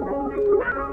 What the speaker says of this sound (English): Organy sound from Lo-Fi Glow and Contact.